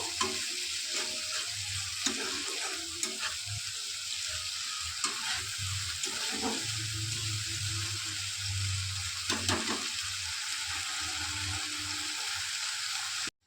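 Ginger, garlic and chili paste frying in a pan, a steady close sizzle running throughout with occasional scrapes and clinks of a utensil, no voices.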